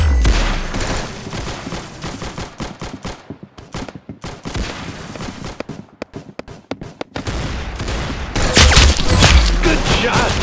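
Rapid gunfire from the Roblox game Arsenal, with dense bursts of sharp shots in quick succession, loud and close, briefly thinning in the middle before an intense barrage at the end, under occasional excited voices.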